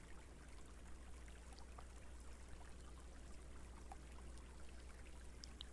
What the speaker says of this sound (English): that's a pretty big water source over there